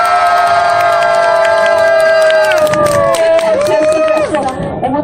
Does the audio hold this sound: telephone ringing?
no